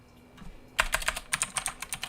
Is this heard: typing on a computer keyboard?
yes